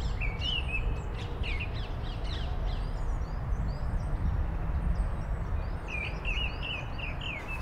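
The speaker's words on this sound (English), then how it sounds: "A missel thrush is singing." A mistle thrush sings in Kensington Gardens, London, in April, its bright phrases carrying over a steady low roar of city noise, fairly faint and without voices.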